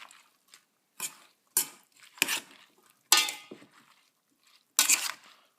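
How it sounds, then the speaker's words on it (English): A spoon clinks against a bowl while onion, tomato, lemon juice and zest are stirred together for homemade vegan salsa. About six sharp, separate clanks come up close, with quiet pauses between them and no talking. "here's the onion, tomato, and lemon juice and zest in the bowl. So you can just stir that around."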